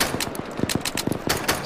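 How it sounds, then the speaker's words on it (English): Close-range gunfire in the military shooter Arma 3, a rapid run of sharp cracks and bursts in uneven rhythm, loud and near, with no talking. "Someone firing close to me."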